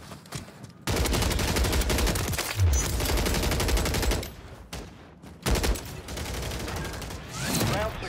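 Rapid automatic gunfire in a video game fired with a no-recoil macro: long dense sprays of shots run for several seconds, pause briefly, then resume in loud sustained bursts close up.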